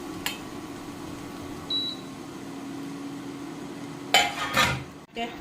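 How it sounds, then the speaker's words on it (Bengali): A utensil stirs mashed potato into lightly fried grated carrot in a pan. A few brief scraping strokes come near the end of an otherwise quiet kitchen background. "এবারে ম্যাশ করে রাখা আলুটা দিয়ে দিলাম"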